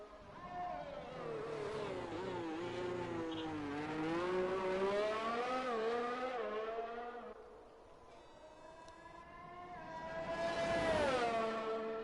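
A Formula race car on a hot lap during Austria pre-season testing, its high-pitched engine note climbing and dropping through gear changes, fading briefly and then swelling back, with faint talk in the background.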